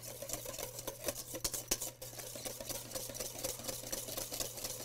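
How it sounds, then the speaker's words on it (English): A metal whisk beats aioli for crab cakes in a bowl, a quick, steady scraping and tapping rhythm against the bowl with a few sharper clinks, close and fairly quiet over a faint steady hum. "grab a whisk. And this is going to be our gorgeous little aioli"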